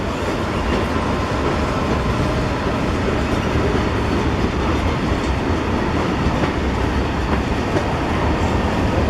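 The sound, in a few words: freight train passing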